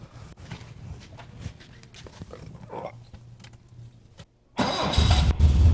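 A 1972 BMW 2002 engine being cranked and fired up: quiet handling noise first, then after a brief pause a sudden loud, close start that settles into a steady, rough idle.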